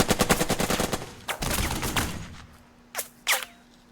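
Rapid automatic gunfire bursts rattle in quick succession in the Burden of Command war game, then fade to a steady low hum broken by two isolated sharp shots near the end.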